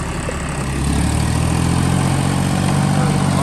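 A John Deere 5050D tractor engine running steadily at a low, even rumble, close by and continuous, with no talking.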